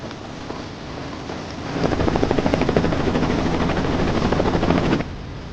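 A helicopter drones steadily, then its rotor chop grows louder and more pulsing for a few seconds before easing back.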